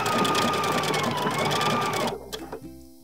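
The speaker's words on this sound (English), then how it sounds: "So this is gonna be a back and forth motion" A sewing machine runs continuously as it stitches back and forth over ripped denim jeans during a repair, loud and steady for about two seconds before stopping, followed by a few faint clicks and handling sounds.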